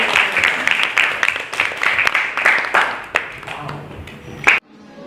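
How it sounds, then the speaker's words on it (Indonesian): Applause from an audience at a community sociology program, dense clapping filling the room for several seconds with a few louder individual claps, ending abruptly into near silence. "tepuk tangan untuk komunitas Ijo"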